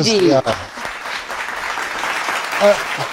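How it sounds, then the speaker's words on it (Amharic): Audience applause at a stage show fills the space with dense, steady clapping for about three seconds, with a brief voice at the start and another near the end. "እስቲ ቲጂን አጨብጭቡላት"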